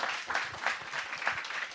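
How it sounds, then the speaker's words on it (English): An audience at an academic conference session applauds with a short burst of steady, moderately distant clapping. "let's give her another round of applause"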